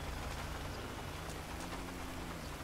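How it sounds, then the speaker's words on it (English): Steady rain falls as a dense, continuous hiss with a faint low hum beneath it, heard without any talking. "It's raining today."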